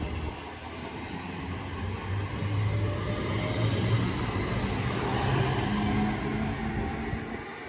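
A delayed Northern class 323 electric train on the Crewe to Manchester Piccadilly service passes at steady volume, a broad continuous rumble with low hum and rail noise, no voices.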